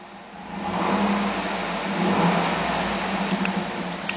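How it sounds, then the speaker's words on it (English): A black 2008 GMC Yukon Denali AWD engine is revved from idle, giving a steady mid-range drone that swells once, then holds loud and close with no talking. "I'm going to rev the engine."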